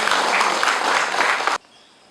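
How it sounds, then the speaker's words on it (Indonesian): A church congregation applauds a visiting priest, a loud dense burst of clapping that fills the room for about a second and a half, then cuts off abruptly to near silence. "Kita beri tepuk tangan dulu untuk dia."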